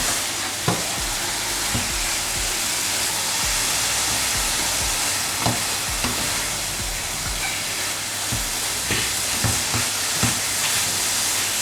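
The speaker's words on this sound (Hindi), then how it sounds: "ये मैंने खूब अच्छी तरह इसको भून लिया" Grated carrot halwa roasts in a pan with a steady, close sizzle throughout, while a spoon scrapes and stirs in repeated distinct strokes about once a second.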